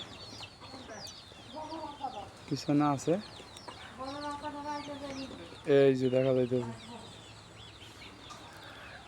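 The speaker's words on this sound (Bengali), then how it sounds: "এই বড় মুরগিটা মূলত এটা সোনালি, অরিজিনাল সোনালি জাতের মুরগি" A Sonali breed rooster and two hens cluck in a backyard, in a series of loud nearby calls with longer drawn-out clucks around the middle and end, while someone talks quietly between them.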